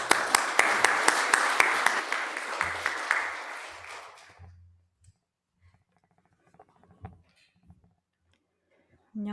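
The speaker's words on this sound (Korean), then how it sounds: "박수로 환영하겠습니다." A Korean church congregation at Sunday worship applauds to welcome a young woman giving testimony, dense clapping that fades out after about four seconds, followed by near silence with faint shuffling and small knocks.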